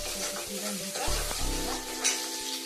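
Chopped onion hits hot oil as the tempering for chun besan, a gram-flour dish, giving a steady close sizzle with a few clattering stirs and scrapes of a spoon in the pan.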